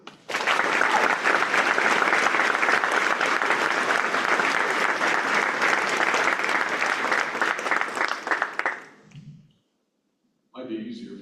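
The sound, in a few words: audience applause welcoming the Governor of South Dakota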